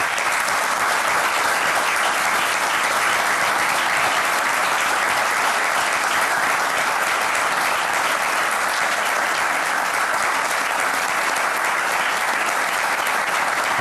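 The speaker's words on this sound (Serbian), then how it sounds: "Čim ja vidim da Simić i Milan tapšu, moram dobro da pogledam da nismo negde preterali." Sustained, dense applause from a large group at a parliamentary session, steady and loud for the whole stretch with no pauses or talk over it.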